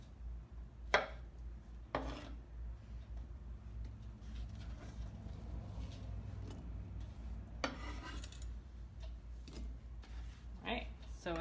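A knife chops ingredients for shrimp ceviche on a cutting board, giving a few sharp, scattered knocks spread across the clip, with a person talking over much of it.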